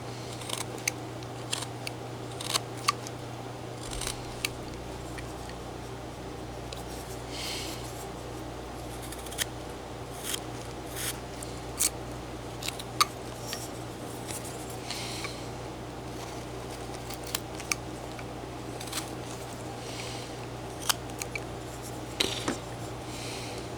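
A knife whittling a wood carving gives sparse, sharp little cuts and scrapes, scattered irregularly over a steady low background hum.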